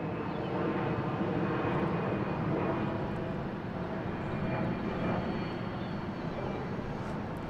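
A Delta Air Lines jet airliner heads out at Boston Logan International Airport with a steady, broad engine roar. The noise holds at a constant level for several seconds, with no talk over it.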